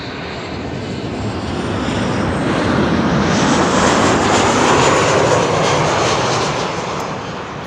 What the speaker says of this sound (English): This is the Emirates A380,